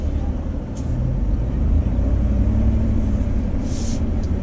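A Chevy Tahoe RST SUV on the move, with a steady, loud low-pitched road and engine rumble filling the cabin and faint talk at moments.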